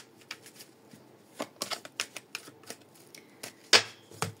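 Tarot cards are shuffled and drawn, a series of quick papery flicks and taps in an irregular rhythm, close and fairly crisp, with one sharper slap near the end and no talking.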